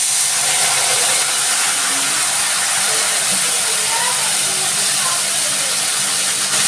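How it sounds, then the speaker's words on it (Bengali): Water poured into hot oil with cumin, sugar and turmeric for a Bengali potol (pointed gourd) dish sizzles and hisses steadily and loudly, a continuous broadband spray throughout with no pauses. "এবার দিচ্ছি আমি একটু জল।"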